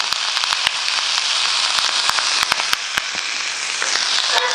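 Chopped onion sizzling and crackling in hot olive oil with toasting dried salted beef for Brazilian paçoca, a steady close fry hiss with sharp pops throughout and no voices.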